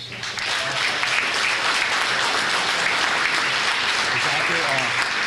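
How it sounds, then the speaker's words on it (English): Sustained applause from a crowd at a Ste. Genevieve, Missouri high school winter sports banquet honoring varsity wrestlers, steady dense clapping filling the room from start to finish with no voices over it. "Please give them a round of applause."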